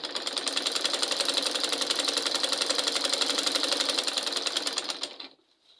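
An electric sewing machine stitching Ankara fabric, running in a fast steady rapid-fire rhythm for about five seconds before stopping, close and alone.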